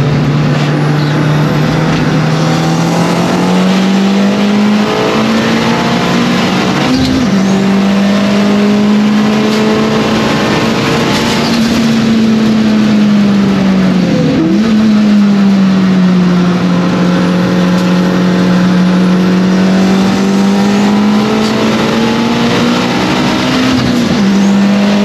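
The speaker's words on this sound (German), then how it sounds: "er gibt jetzt schon Gas" Car accelerating at full throttle on a track, a loud, steady engine roar whose pitch climbs and dips through gear changes across the whole stretch, close and continuous.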